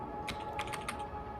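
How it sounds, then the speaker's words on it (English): Quick, uneven keystrokes on a computer keyboard, a handful of close clicks clustered in the middle over a steady background hum, no voices. "don't judge my bad typing skills"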